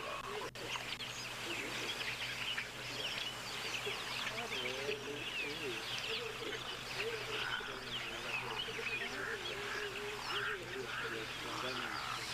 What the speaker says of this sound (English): A lot of birds. Of course, our crows that we can hear.